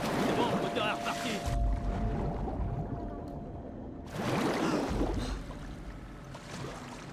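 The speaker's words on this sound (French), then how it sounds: "C'est bon, le moteur est reparti." A boat engine runs in The Last of Us Part II, a loud churning motor with rushing water that drops away briefly midway, then surges back.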